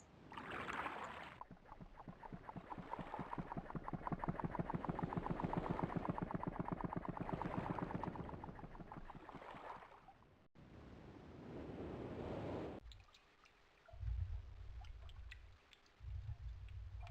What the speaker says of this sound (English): hit the left button, and that drains the water from the ship